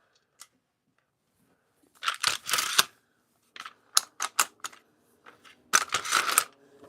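Parallel clamp being fitted and tightened on a woodworking glue-up, heard as a series of close, sharp clicks and ratcheting clatters in bursts, with short pauses between, no talk over it.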